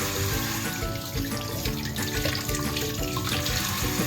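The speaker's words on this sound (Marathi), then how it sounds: "तर आपण शिमला मिरची आहे त्याला वॉश करून घेऊ." Water runs steadily from a kitchen tap as capsicum is rinsed under it, splashing and clattering up close and quite loud. No voices are present.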